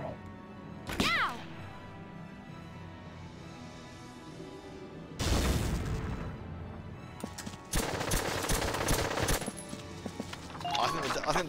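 Gunfire in the video game Valkyria Chronicles: a sharp shot, then loud rattling bursts of rapid fire in the second half, heard close and mixed with other game sounds.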